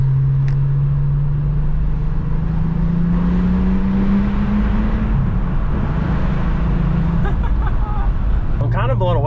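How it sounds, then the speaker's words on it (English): A Volkswagen Jetta VR6 wagon's engine hums steadily, its pitch climbing as it accelerates, then drops to a lower drone, with a voice talking over it near the end. "This car sounds so good."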